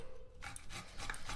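Half a potato scraped by hand against a grater, a soft, continuous rasping rub that comes in short uneven strokes, close and quiet, with no voices.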